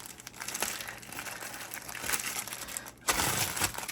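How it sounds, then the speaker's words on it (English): A package of Biscoff cookies is crushed by hand, making close, continuous crinkling of the wrapper and crunching of the biscuits, with a louder burst of crushing near the end. "I'm smashing up a package of Biscoff cookies."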